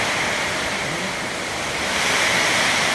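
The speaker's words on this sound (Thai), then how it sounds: "ดูครับดูกับพายุมาเป็นคลื่นๆเลยครับมากับลมนะครับ" A violent storm with heavy rain, hail and thunder sends wind gusts sweeping across in waves, making a steady, loud broadband roar that swells slightly toward the end, with no voices.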